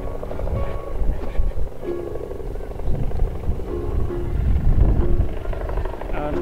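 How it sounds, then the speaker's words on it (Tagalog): A helicopter flies over an area damaged by typhoon Kristine near a broken bridge in Laurel, a low rotor drone with wind buffeting, moderately loud and steady, while a person talks. "Helicopter po natin."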